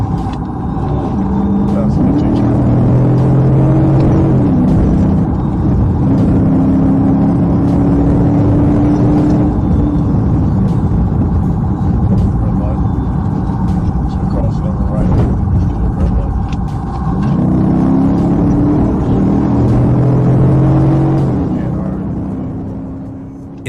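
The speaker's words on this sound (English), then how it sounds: "the driver suddenly accelerated and fled, pushing speeds beyond 115 miles per hour" Dodge Charger engine revving hard and accelerating at high speed while fleeing police, a loud sustained roar with rising gear sweeps, dipping midway before climbing again, with road noise throughout.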